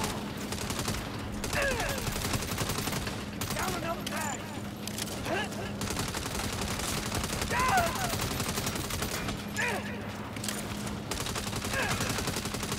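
Rapid bursts of gunfire from the video game Saints Row crackle in repeated volleys throughout, layered over a steady busy game soundscape with voices and background noise.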